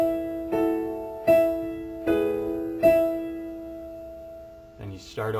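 Piano plays the chord pattern of a song, four evenly spaced struck chords ringing and decaying, close and clear, before a voice begins speaking at the end.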